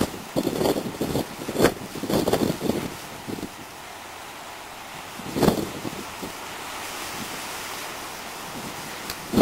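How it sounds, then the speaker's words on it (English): Natural wind blows at the Grand Canyon in the evening, a broad rushing roar with gusty bursts and rumbling buffets against the microphone, fading to a steadier soft hiss, fairly faint. "What you hear is a natural wind."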